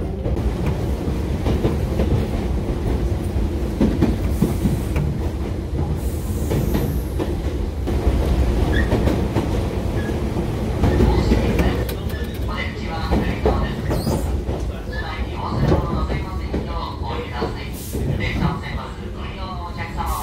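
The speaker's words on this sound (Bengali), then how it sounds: "তাহারা স্টেশন থেকে তয়োহাশি স্টেশন এই লোকাল ট্রেনে আমাদের সময় লাগবে 40 মিনিট।" Local train running between Tahara and Toyohashi in Japan, heard from inside the carriage as a steady rumbling roll with rhythmic wheel clatter and occasional squeal, while passengers' voices murmur and talk over it.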